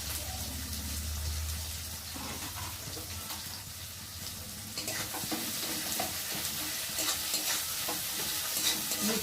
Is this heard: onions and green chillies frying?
yes